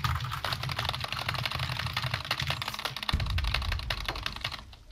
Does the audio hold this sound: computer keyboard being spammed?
yes